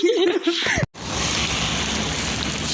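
Steady rain hisses down continuously, a dense even patter on surfaces, following a brief snatch of voices at the start.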